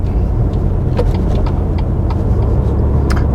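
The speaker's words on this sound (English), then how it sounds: "So we're just accelerating up into a slightly faster speed limit, 50 limit." Car with an automatic gearbox accelerating up to a 50 limit, with a loud, steady engine drone and road rumble heard from inside the cabin, plus a few light clicks and knocks.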